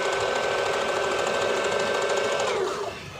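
A Singer zigzag sewing machine runs steadily, close and loud, stitching long stitches with a fast, even whirring rhythm that slows slightly at the end.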